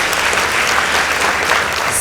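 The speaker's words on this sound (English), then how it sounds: "Let's give them a round of applause." Steady audience applause at a high school debate contest between two boys' and girls' schools, dense and continuous clapping, loud and close throughout.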